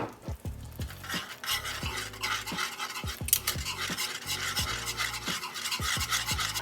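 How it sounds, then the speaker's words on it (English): A whisk stirs grated Parmesan into a homemade Alfredo sauce in a pan, making a steady, close rhythmic scraping and swishing with soft sizzling underneath and no voices. "So now I'm gonna go in with about 2 pinchfuls of my Parmesan cheese, and I'm going to whisk this in as well"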